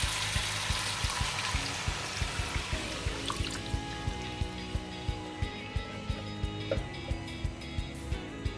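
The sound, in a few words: pouring about 300 ml of water into pan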